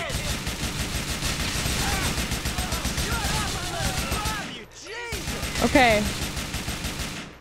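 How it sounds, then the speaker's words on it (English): Rapid bursts of gunfire crackle continuously in a shooter video game firefight, dense overlapping shots with a brief pause near the end before more firing, and a voice speaking briefly over the din. "Oh my god, so many gunshots."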